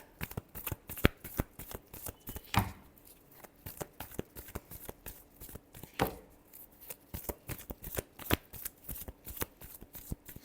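Tarot cards shuffled by hand in steady, close, crisp flicks and slaps, with two louder riffle bursts standing out from the continuous rhythmic card noise, and no voices.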